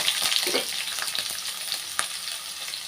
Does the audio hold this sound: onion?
yes